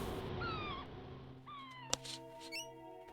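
A kitten meows close to the microphone, two clear rising-and-falling calls with a short bump in between, sounding alone over steady game background music.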